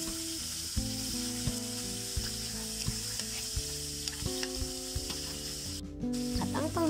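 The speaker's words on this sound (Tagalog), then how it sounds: "inumpisan ko na ang pagigisa. Inuna ko muna yung bawang, sunod ko na din ang sibuyas" Garlic, onion and tomato sautéing in a pan for mussels, a steady close sizzle with scraping stirs and small clinks of the utensil, no voices.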